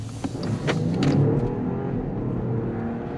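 A 2023 Jeep Wagoneer accelerates quickly, heard from inside the cabin as a steady, rising engine drone and road hum, with a few faint clicks early on.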